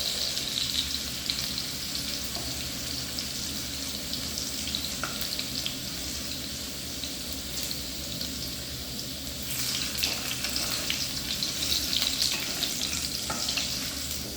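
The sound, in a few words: potatoes frying in oil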